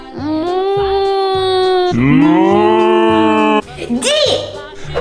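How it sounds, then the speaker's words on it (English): A cartoon-style cow moos in a children's alphabet song, several long, loud lowing calls in a row over a steady musical backing, with a short bright squeal near the end. "Cow."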